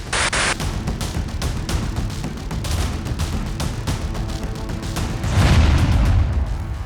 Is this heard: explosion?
yes